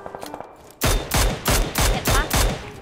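A test shot in the video game PUBG Lite fires off six loud, sharp gunshots in a steady, evenly spaced rhythm, each cracking close, with quiet game clicks and tones before the first shot.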